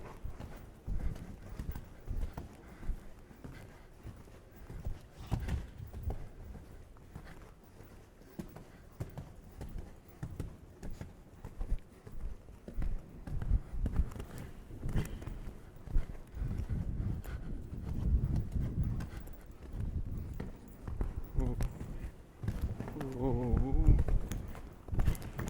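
Horse cantering during a showjumping clinic, its rhythmic hoofbeats thudding close and steady over the whole span, mixed with a rider's or trainer's talk and brief breathy sounds near the end.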